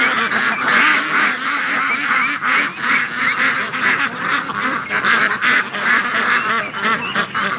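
A flock of domestic ducks and geese honk and quack loudly and continuously on wet grass near a lake, a dense overlapping chorus with no talk.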